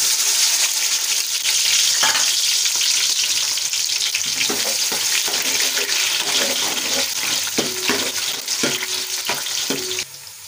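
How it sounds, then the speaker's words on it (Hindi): Chopped onions sizzle and fry steadily in a hot pan for chana dal pulao, a loud continuous crackle broken by occasional stirring scrapes and clinks, with no talking. "अब इसमें हम प्याज डालेंगे"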